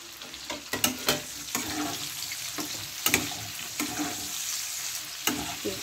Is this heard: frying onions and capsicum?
yes